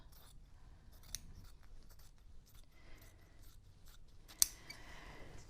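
Scissors snip through shirt fabric being cut apart for quilting, a few soft, quiet cuts with one sharper click near the end, close by in a still room.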